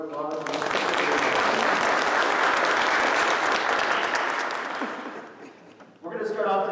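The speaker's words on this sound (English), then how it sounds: "can you give them a round of applause?" At a December worship service, the congregation gives the worship team a loud, full round of applause lasting about five seconds, then it fades out and a voice begins speaking.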